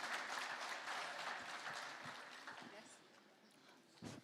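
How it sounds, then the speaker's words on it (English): Audience applause at the Global Entrepreneurship Week 2025 opening in Ethiopia, steady clapping that slowly fades, with faint voices underneath. "Another round of applause to Sherry Uwasi"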